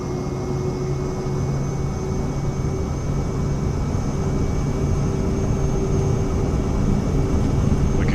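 Twin turbine whine of a Cirrus Vision Jet's engine at takeoff power in Microsoft Flight Simulator 2024, a steady loud drone with sustained tonal hum, constant and uninterrupted throughout.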